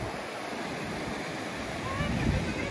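Ocean surf on a Costa Rica shore washes in a steady, broad hiss, with a slight swell toward the end and some wind noise on the microphone.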